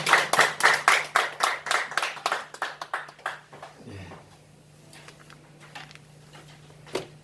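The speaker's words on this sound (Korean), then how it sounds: "주님께 영광을 박수 드리겠습니다." A church congregation claps in steady rhythm for about four seconds, loud and close, then tapers off into a quiet room with a low hum and a single clap near the end.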